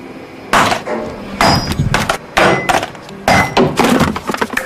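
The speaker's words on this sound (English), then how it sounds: "What happens to this sander is typical. This is called the 6-foot drop test." A Ryobi sander dropped six feet in a drop test lands with four sharp, clattering crashes of hard plastic on a hard surface, each followed by a short rattle. The impacts are loud and close, with no talk.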